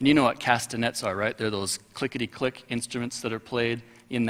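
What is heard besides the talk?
No everyday noises stand out.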